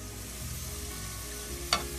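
Vegetables fry in a pan with a soft, steady sizzle, close by and fairly quiet, broken near the end by one short sharp clink, with no talking.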